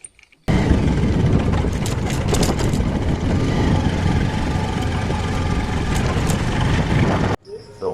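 A motorbike engine runs with a steady, close rumble for about seven seconds, then cuts off abruptly.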